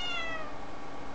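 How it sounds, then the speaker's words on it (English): A pet cat named Bettina meows once in a drawn-out, moderately loud call, close by, sitting on a lap with no talk over it. "Here's the kitty, Bettina."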